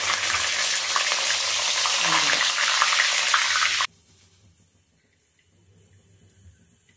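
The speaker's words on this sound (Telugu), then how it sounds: "ఇప్పుడు కరివేపాకు కొంచెం నూనెలో వేయించుకోవాలి" Curry leaves frying in hot oil for a dal moth snack, a loud dense crackling sizzle that cuts off abruptly, leaving quiet faint kitchen sounds afterward.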